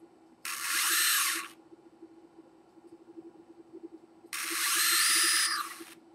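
Motors of a PI Q-845 SpaceFAB positioning platform tilt the top stage, giving two steady whirring bursts of about a second each separated by a quieter pause with a low hum underneath.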